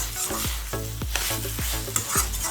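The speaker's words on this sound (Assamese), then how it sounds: "শাকখিনি ভালদৰে ভাজি ল'লোঁ মই এতিয়া" Gooseweed greens sizzle steadily in a frying pan while a spatula scrapes through them in an even repeating rhythm, close up and without speech.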